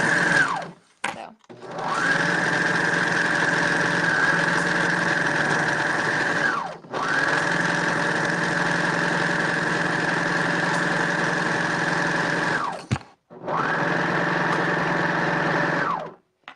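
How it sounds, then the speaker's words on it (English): A sewing machine stitches along a serged fabric edge, running in three steady bursts of close, even motor whir separated by brief pauses. "I'm just sewing right over the serging. Usually sew with the serging on top, but I didn't for this side."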